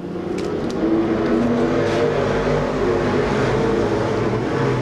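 Race cars roar around the Seekonk Speedway oval during a 1994 event, engines droning loudly and continuously with shifting pitch as the pack runs close by.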